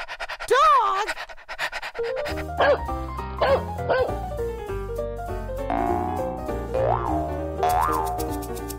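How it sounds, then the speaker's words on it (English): Cartoonish dog barks and panting sound effects bounce over playful music in a children's surprise-egg instrument segment, loud and close, with a lively voice mixed in among the effects. "Dog!"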